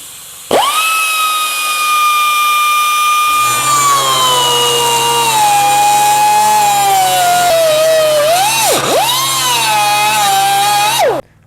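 A power tool cuts a metal piece out of the upper cowl of a 1963 Ford F100, a loud sustained high whine that drops in pitch as it bites into the metal and briefly dips before stopping.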